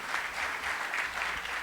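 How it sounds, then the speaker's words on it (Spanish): Audience at a consumer-law panel applauds a magistrate, a brief, even burst of many hands clapping, moderately distant and steady throughout. "Un fuerte aplauso para el magistrado"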